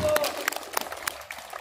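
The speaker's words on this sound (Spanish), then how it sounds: "Un aplauso, señores," A crowd at a fronton in San Luis Tlaxial applauds pelota players after a match, a short burst of scattered clapping with a voice over it.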